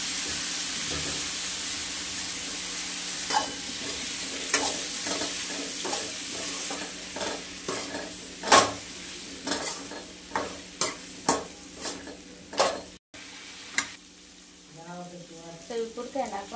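Potatoes tossed into a pan of frying ground spice mix for a spinach dish, giving a hissing sizzle followed by a series of rhythmic stirring scrapes and knocks against the pan, close and fairly loud.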